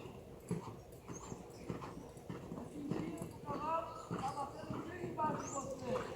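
Horse cantering during show jumping training, soft repeated hoof thuds in a steady rhythm under continuous talk.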